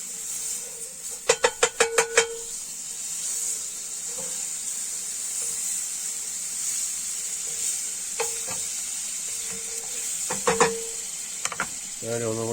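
A generous knob of butter sizzles in a frying pan before wild shaggy ink cap mushrooms go in, a steady close hiss with bursts of clinking utensil taps and a brief voice near the end.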